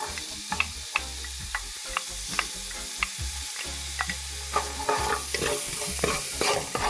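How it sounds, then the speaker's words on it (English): Onions frying in a pot over low heat with a soft continuous sizzle, punctuated by frequent light clicks and scrapes of stirring, no voices. "in the same pot, I'm going to add my onions"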